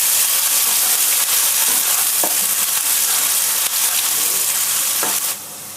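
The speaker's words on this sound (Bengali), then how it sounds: "পেঁয়াজ ভাজা হয়ে গেছে," Chopped onions fry in a pan for restaurant-style dal tadka, a loud, steady sizzle with a few sharp stirring clicks, ending in a slightly softer hiss.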